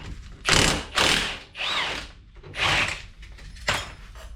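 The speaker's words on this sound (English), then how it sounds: "Again, bolts come out extremely easily." Bolts are loosened on the two-piece spindle of a Lexus GX460 during wheel bearing replacement, with about five loud, close bursts of ratcheting, each lasting around half a second.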